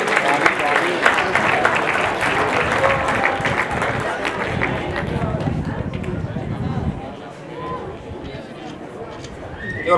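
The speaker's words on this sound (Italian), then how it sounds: "l'applauso ancora accompagna i nostri due atleti" An audience applauds two athletes at a sports club awards ceremony, a long steady patter of clapping mixed with crowd murmur and an announcer talking over it, easing toward the end.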